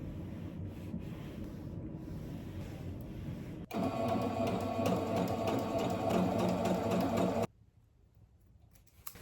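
A sewing machine stitches a decorative quilting pattern into fabric for a book sleeve, running steadily and close for several seconds in the middle before stopping abruptly, with a soft room hush on either side.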